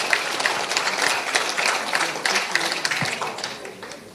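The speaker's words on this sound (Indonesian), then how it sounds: "Boleh tepuk tangan yang meriah Bapak Ibu." Steady audience applause at a farewell event, many hands clapping together in a dense, continuous patter that fades slightly at the end.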